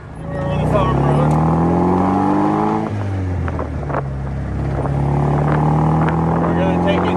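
A 1954 Austin Healey 100-4 BN1 in 100M Le Mans spec drives along a farm road, its engine a loud, steady drone with rising and falling pitch as it pulls and shifts, with brief talk over it.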